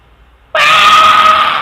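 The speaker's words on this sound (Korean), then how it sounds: "단점은 소리 지르는 겁니다" A sudden loud scream bursts out after a brief quiet and holds steady, shrill and strained, close and alone for over a second.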